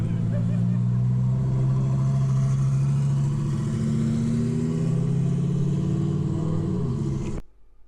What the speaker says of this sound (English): So here's a Huracan going by.